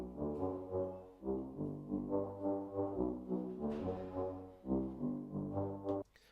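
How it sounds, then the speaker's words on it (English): Deep, breathy air flute sample pitched down into a grime bass line, playing a rhythmic pattern of sustained swelling notes with no talking, then cutting off near the end. "I ended up using this air flute and pitched it down"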